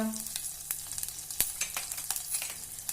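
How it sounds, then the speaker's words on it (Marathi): Cumin, torn curry leaves and crushed garlic hit hot ghee in a pan and sizzle steadily. Sharp pops and crackles sound close up over a constant hiss. "तूप गरम झालंय जिरं घालूया कडीलिंबाची पानं चिरून घातली आहेत हाताने तोडून लसूण ठेचलेला घालूया"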